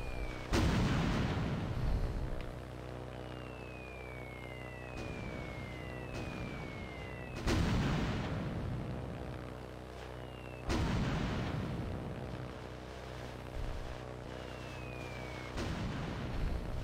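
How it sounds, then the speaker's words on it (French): Atomic bomb blasts in the aircraft game Aircraft Evolution: several heavy booming explosions at irregular intervals, each a loud broadband impact fading into rumble, with descending whistling tones between them. "Attention, une bombe atomique."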